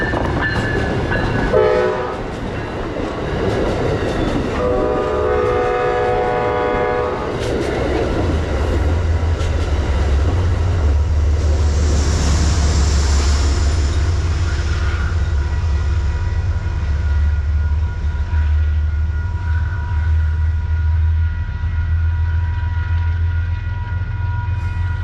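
An Amtrak GE locomotive passes Peekskill station. Its horn sounds in several blasts, then the deep rumble and rail noise of the passing train build and carry on steadily to the end.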